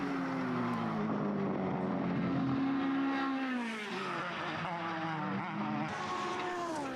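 Formula BOSS race cars powering out of a hairpin at the Leinster Trophy race in Ireland, several engine notes climbing and overlapping loudly as the cars accelerate, with faint commentary underneath.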